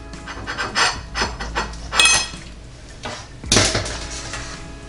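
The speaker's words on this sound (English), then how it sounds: "I'll try and get the meat probe out a little more aggressively" A meat probe scraping and clinking as it is pulled out of spinach-and-feta stuffed chicken on a plate, giving a few close rubbing and scraping bursts with sharp clinks around the middle and near the end.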